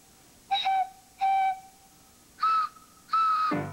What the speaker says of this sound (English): The longer the pipe, the lower the pitch.